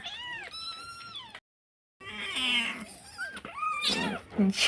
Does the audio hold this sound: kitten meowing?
yes